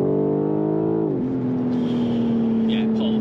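BMW M4 engine pulling hard after a downshift on a dual carriageway, a loud sustained drone heard from inside the car that rises then settles into a steady strong note, with a brief voice in the cabin.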